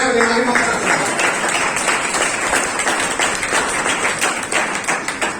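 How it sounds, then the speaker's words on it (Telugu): Brisk, fairly loud audience clapping at a church sermon gathering, a burst of many hands fading slightly toward the end, with a voice briefly heard at the start. "ఓ చప్పట్లు కొట్టి"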